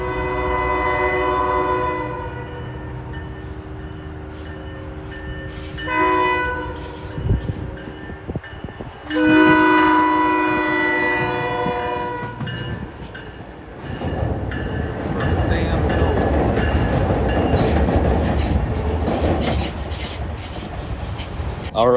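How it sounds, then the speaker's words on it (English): A commuter train horn sounds in long blasts, then the train rumbles and clatters past nearby along the Petaluma River with rising, sustained rail noise. "Here comes another smart train."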